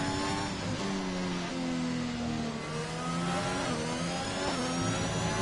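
An Alpine race car engine roars in a sim racing game at the Barcelona circuit, revving up and down through gear changes with a continuous loud, close howl and no talk over it.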